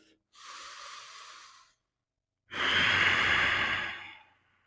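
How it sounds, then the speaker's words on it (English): Two deep breaths during a yoga mobility session for squat depth: a gentle airy inhale, a short pause, then a longer, louder, fuller exhale, close to the microphone with no talking. "One more deep breath"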